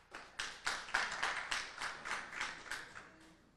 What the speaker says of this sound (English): didn't expect to have that much applause